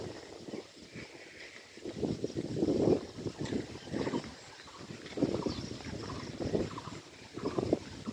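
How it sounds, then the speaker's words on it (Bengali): Gusty outdoor wind rushes and buffets the microphone in uneven surges, rising and falling loudly on a hot day with no one speaking. "প্রচুর গরমের মধ্যে আজকে দিনটা খুব সুশীতল আবহাওয়া বাতাস বইছে"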